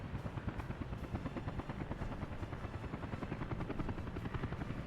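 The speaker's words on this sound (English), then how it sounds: "How many helicopters have we got coming in? Another 2 Mi-10s." An Mi-10 helicopter in the city-building game Workers & Resources approaches with a continuous rapid rotor thump over an engine drone, holding steady and fairly loud throughout.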